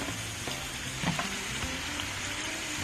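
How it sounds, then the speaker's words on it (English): Tofu sautés with seasonings in a pan for a vegan teriyaki chow mein, giving a dense, steady sizzle with a couple of soft stirring knocks, close and continuous without speech. "so we added the tofu to the seasonings, and we're just sauteing that up a little bit"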